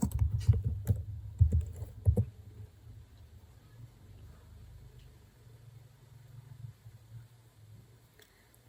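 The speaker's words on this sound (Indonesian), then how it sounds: "Jika kita ingin melihatnya, kita ketikkan kode conda" Keys clack in a quick burst as the conda env list command is typed on a computer keyboard, then the clicking stops and only a low, quiet hum remains.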